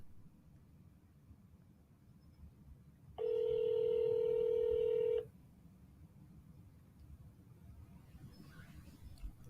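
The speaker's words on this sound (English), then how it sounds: "I'm going to call Steven" Touch-tone telephone dialing a call: a continuous two-second burst of steady DTMF tones rising loud over a faint background hiss, then silence again with no talk.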